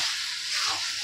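A spice paste with green chilies fries for chicken kosha in a pan, giving a steady, close hiss and sizzle that holds evenly with no talk over it.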